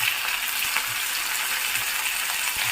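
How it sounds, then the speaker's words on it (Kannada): Small cut pieces of potato frying in oil, giving a loud, dense, continuous sizzle close by with a few faint stirring knocks. "ಇವಾಗ ಆಲೂಗಡ್ಡೆ ಹಾಕೊತಿದ್ದೀನಿ ಚಿಕ್ಕ ಚಿಕ್ಕದಾಗ ಕಟ್ ಮಾಡ್ಕೊಂಡಿದ್ದೀನಿ ಇದು ಎಣ್ಣೆಲೆ ಸ್ವಲ್ಪ ಮೆತ್ತಗಾಗೋವರೆಗೂ ಫ್ರೈ ಮಾಡ್ಕೋಬೇಕು"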